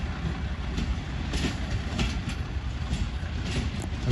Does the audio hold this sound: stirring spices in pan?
no